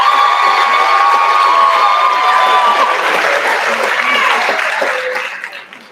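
A large crowd at a high school graduation applauds and cheers steadily in a big indoor space, with shouts mixed in, before the clapping fades out at the end.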